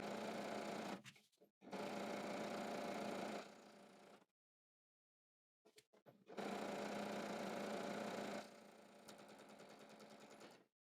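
A sewing machine stitches a skirt side seam in two steady whirring bursts of a few seconds each, with a short pause and brief stutters between them, close and moderately loud.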